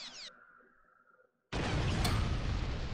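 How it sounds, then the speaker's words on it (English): Explosions go off in the video game America's 10 Most Wanted as a sudden loud, roaring blast that follows a brief electronic tone and quiet lull and keeps rumbling to the end. "It was a chain explosion."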